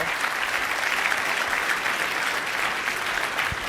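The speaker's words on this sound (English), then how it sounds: "I think everybody should applaud you for putting it into the organization" Steady applause from a crowd, sustained and fairly loud throughout with no pauses.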